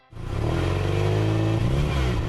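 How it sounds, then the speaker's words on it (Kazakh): A car engine starts and settles into a steady, loud mid-pitched rumble with a slight rev, heard alone and close throughout. "автокөлік моторының гүрілі,"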